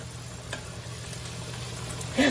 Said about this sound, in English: Grab one while I stir my bacon.